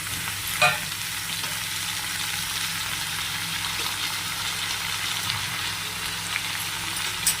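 Onion and garlic sizzling and frying in a pan, a steady crackling hiss with a few brief stirring clinks, no talking.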